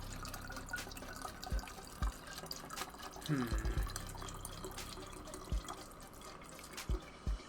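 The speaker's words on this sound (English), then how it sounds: "Apologies for the water sound. I am refilling my water bottle." A water bottle refilled under a running tap: steady faint water flow with scattered drips and small splashes at irregular intervals, close by, no voices.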